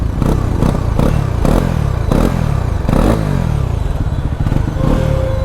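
A Bajaj Pulsar NS 400Z motorcycle revs repeatedly, loud close engine and exhaust bursts rising and dropping in a quick rhythm of about eight throttle blips, heard alone with no talk.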